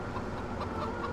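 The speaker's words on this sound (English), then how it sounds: "Watch out for the chickens." Farmyard chickens cluck softly in Farming Simulator, a short burst of faint fowl chatter over a steady low engine hum.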